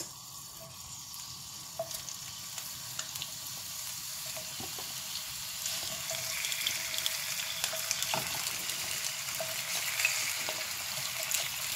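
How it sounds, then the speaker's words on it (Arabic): Sliced potatoes fry in oil over high heat, a steady close sizzle with crackling pops that grows slightly louder over time, no voices. "ومعايا بطاطس انا مقطعاها شرايح، يعني بصوا مش تخينه ومش رقيقه، يعني انا هديها تحميره كده في الزيت"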